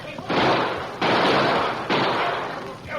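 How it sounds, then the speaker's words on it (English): Rifles fire over a stampeding buffalo herd in a radio drama about a pioneer wagon train, three loud, hissing volleys about a second apart, with voices under the noise. "All right, men, shoot over their heads to turn them away."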